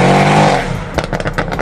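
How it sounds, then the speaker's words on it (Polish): An 801 hp modified sleeper car launches from a standstill with a loud, close engine roar that drops away after a moment into a few sharp pulsing bursts. "może pokażę, jak rusza od zera ten samochód"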